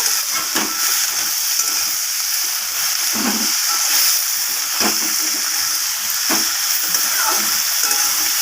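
A spice mixture with a pinch of sugar sautéing in a pan for a red amaranth stem dish: a continuous bright frying hiss with occasional scraping stirs and soft knocks, close up and without speech.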